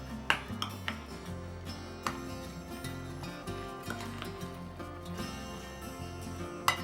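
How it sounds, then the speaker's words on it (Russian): A spoon stirs a mixture of curd, egg and melted butter in a bowl, giving quiet, quick clinks and scrapes against the bowl in an irregular rhythm, with no talking. "Теперь я все быстро перемешиваю до однородности."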